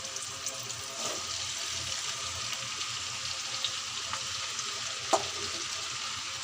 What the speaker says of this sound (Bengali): আমি ভেন্ডি ভাজি করব, তার জন্য পেঁয়াজ কুচি আর মরিচ দিয়ে দিয়েছি।